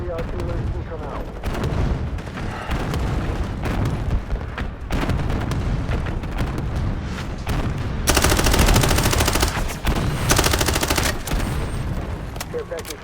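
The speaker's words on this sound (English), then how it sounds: "Friendly artillery beacon out." An artillery strike in Call of Duty multiplayer, heavy booms and rolling explosions layered with gunfire, loud and dense throughout, with in-game voice callouts over the barrage.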